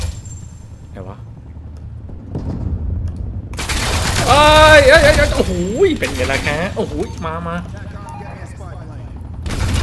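Gunfire from a firefight in Call of Duty Black Ops Cold War rattles in bursts beneath an excited player shouting over it, the shots fairly close and loud, mixed with other game noise.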